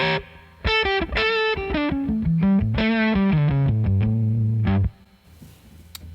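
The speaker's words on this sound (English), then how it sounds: "Put a little bit of reverb on from the Boss 63 Spring." An electric guitar played through a pedal with a Boss 63 Spring reverb, loud distorted notes and a descending run of sustained tones that then stop, leaving a faint reverb tail and light handling noise.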